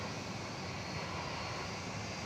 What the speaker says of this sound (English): if you're a fan of the 757, and who isn't, we're about to see another one. This one's arriving from Memphis.